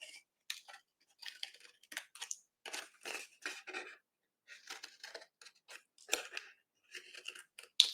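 Scissors snipping through paper for a Christmas cracker treat box, a quick series of close, crisp cuts in short irregular bursts with quiet gaps between.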